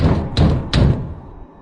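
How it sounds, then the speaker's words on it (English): A door is banged hard twice in quick succession, a pair of loud, heavy thuds about half a second apart, close and alone with no talking. "I heard a bang on the door."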